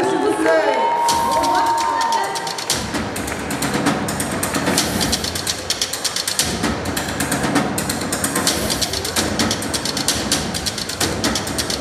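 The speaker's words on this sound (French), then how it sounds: "On l'applaudit, s'il vous plaît." A large crowd at a cosplay contest cheers and applauds loudly and continuously after a brief musical tone at the start, keeping up a dense roar of claps and shouts to the end.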